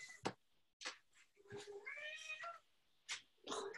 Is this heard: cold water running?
no